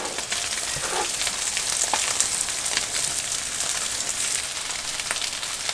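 Chicken stir-fries in a hot pan with soy sauce, giving a steady, close sizzle with crackling spits and occasional stirring scrapes, without talk.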